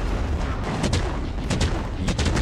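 A fireworks store blowing up in a video game, giving dense, continuous crackling bursts and booms that pop repeatedly and overlap in a loud, noisy barrage.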